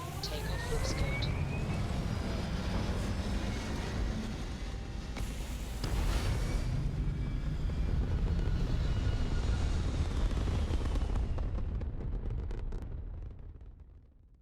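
Spaceship lifting off in the Starfield video game: a loud, sustained roaring rumble with rising hiss and whine, steady for most of the span before fading out at the end.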